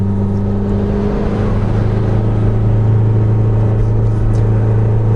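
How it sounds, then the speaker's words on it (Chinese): An Isuzu D-Max engine held in second gear in manual mode drones close and loud, a steady low humming rumble that swells slightly as revs rise midway, with no speech. "它的转速在3000转过后啊，就会开始听到比较大声的引擎声。"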